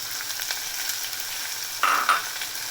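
Onions sizzle in hot oil in a pan as samosa filling begins, a steady close crackle with a brief louder hiss and stir partway through, and no voices.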